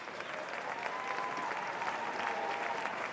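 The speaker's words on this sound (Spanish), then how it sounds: "Aplaude la afición del Fútbol Club Barcelona." FC Barcelona supporters applaud in the stadium during a women's Champions League match, giving a steady, distant wash of clapping from the crowd that holds evenly throughout.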